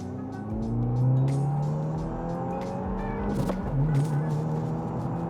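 Subaru WRX and BRZ sports cars accelerating side by side in a race, a steady loud engine drone with rising pitch from gear pulls, a brief tire or wind burst midway, no talk.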